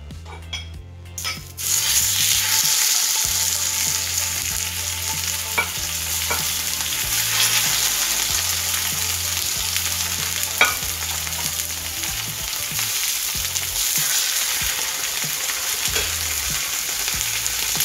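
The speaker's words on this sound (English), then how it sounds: "After the skillet gets heated, you put the salmon in the skillet" Salmon laid into a heated skillet, a short clatter and then a loud, steady sizzle that carries on for many seconds, with a few faint utensil taps and no speech.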